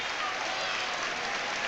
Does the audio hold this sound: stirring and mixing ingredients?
no